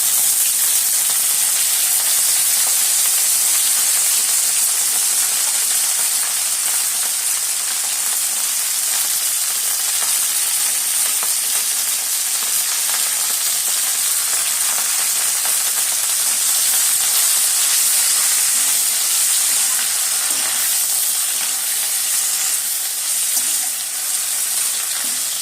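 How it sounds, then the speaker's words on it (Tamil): Thuthuvalai leaves sautéing with garlic in a pan, a dense, even hiss of frying and steam holding steady for the whole stretch, close and loud, without talking. "இந்த ஸ்டேஜில் நம்ம அந்த தூதுவளை கீரையும் போட்டு நல்லா வதக்கிடலாம்."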